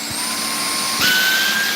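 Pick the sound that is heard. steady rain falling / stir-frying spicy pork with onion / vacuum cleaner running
vacuum cleaner running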